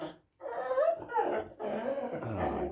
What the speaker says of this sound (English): I don't know what to do about that dog.